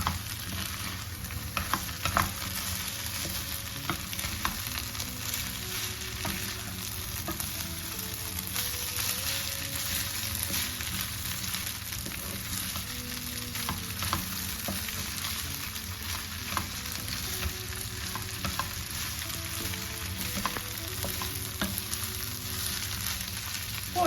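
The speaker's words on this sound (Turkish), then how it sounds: "Biraz daha karıştıracağım." Minced meat filling for stuffed peppers, seasoned with salt, fries in a pan with a dense, continuous close sizzle, while a spoon stirs through it in light irregular scrapes and taps.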